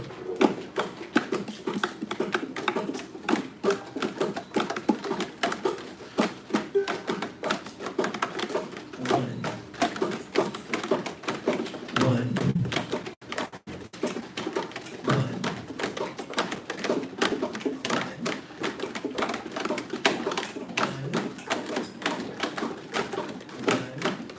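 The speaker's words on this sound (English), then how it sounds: "we're going to tap the side of the ukulele" Rapid, steady hand tapping and knocking on the hollow wooden side of a ukulele keeps a continuous rhythm, with occasional heavier thumps and no talking.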